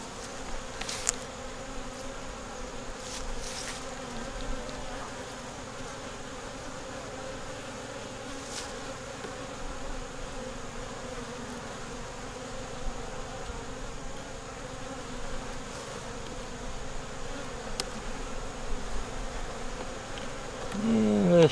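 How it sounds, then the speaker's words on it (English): Honey bees buzz steadily around a removed hive feeder, a dense continuous drone with occasional louder individual bees passing close, no talking. "A lot of bees in there."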